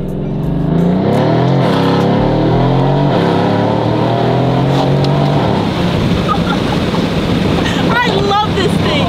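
Twin-turbo Lamborghini Huracan revving hard under acceleration, a loud continuous engine roar climbing through the revs with crackling exhaust pops near the end, heard from inside the car amid road noise.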